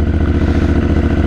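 A CFMoto 450MT motorcycle engine cold-starting and idling close by, a steady loud mechanical thrum with a fast even pulsing beat and light clatter throughout, no voices.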